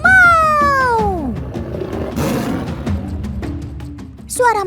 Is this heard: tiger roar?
yes